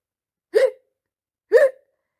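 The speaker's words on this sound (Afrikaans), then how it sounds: "Skielik begin Padda te hik." A frog character in an Afrikaans fairy-tale story hiccups twice, about a second apart. Each hiccup is a short, sharp voiced jolt, close up, with silence around it.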